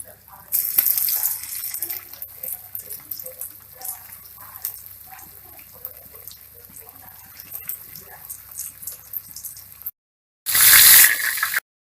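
Mushrooms deep frying in hot oil give a steady, bright hiss that runs close and continuous, with a voice talking over it, then a brief louder burst near the end.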